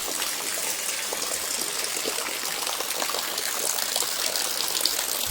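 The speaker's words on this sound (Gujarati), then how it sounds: "પાણી ભરાવાનું ચાલુ થઈ ગયું" Rainwater gushes and fills up steadily during a downpour, a continuous close hiss of pouring and splashing water with no pauses.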